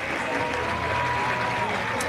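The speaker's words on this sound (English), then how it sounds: "He'll get a round of applause from the Lehi faithful." Lehi fans at a 6A high school baseball championship game give sustained applause mixed with crowd noise, a steady, distant wash of clapping with murmuring and voices underneath.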